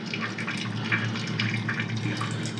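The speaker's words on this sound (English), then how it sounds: "The water's running." Water runs steadily in a toilet tank in a hotel bathroom after the float was changed, a continuous close hiss and trickle with no talking.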